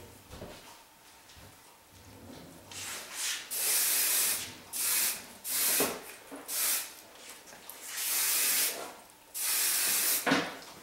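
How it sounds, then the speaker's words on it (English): Repeated bursts of hairspray hiss in short and longer pulses, about eight sprays with brief pauses between, close and moderately loud. "just grab at it and spray"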